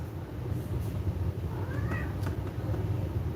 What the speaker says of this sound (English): My cat is harassing me with the sound.